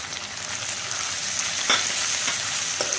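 Tomato and ginger hitting hot oil with frying garlic and onion for aloo bhujia, a steady loud sizzle with a few stirring scrapes and no talking.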